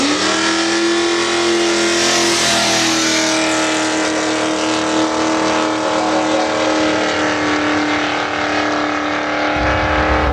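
A Chevelle drag car launches in drive and accelerates hard down the strip, its loud engine roar climbing steadily through automatic upshifts for the whole pass, with no talk over it.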